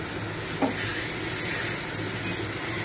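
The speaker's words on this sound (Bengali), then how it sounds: "এবারে আমি এই ব্যাটারটা দিয়ে খুব সুন্দর করে আবারও একটু নেড়ে চেড়ে মিশিয়ে নেব।" Fried kochur lati (taro stolon) stirred with a mustard-poppy seed batter, a loud, continuous hiss and sizzle with soft scraping underneath.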